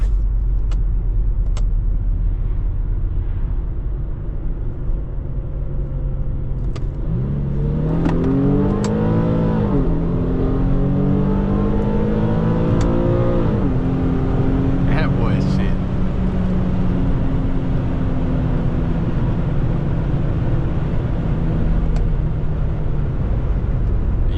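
A tuned Infiniti G37 and a 2024 C8 Corvette make hard pulls on a drive. Engine notes climb through repeated rising revs in the middle, loud over a constant road rumble, then settle back to a steady drone.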